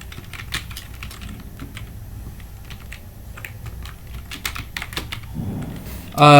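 Fingers type R code on a computer keyboard in quick, irregular bursts of close, crisp clicks. A louder, sudden sound cuts in at the very end.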